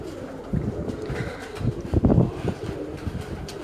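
Pigeons on a rooftop coo in soft, low, throaty bursts, fairly close, over gusty wind noise, with the coos clustering near the middle.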